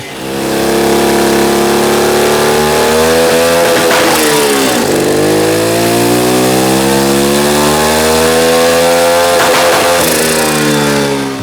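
A 150cc turbocharged go-kart engine runs loud and close, holding a buzzy high idle with strong harmonic drone, then revving up sharply twice with rising and falling pitch, no speech over it.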